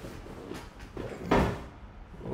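A door pulled shut indoors, one fairly loud, brief thud standing out against a steady room hum, with a few softer knocks and shuffles before it.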